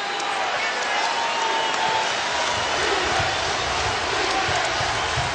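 Basketball arena crowd roaring steadily for Louisville during a late second-half fast break against top-ranked Syracuse in Freedom Hall, a dense, continuous wash of cheering throughout.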